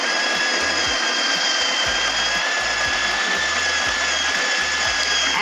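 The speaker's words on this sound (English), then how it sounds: "Once I click this, it's going to start grinding." The built-in grinder of a DeLonghi La Specialista Opera espresso machine grinds Colombian espresso beans, a loud, steady, close whir with rhythmic low pulses beneath.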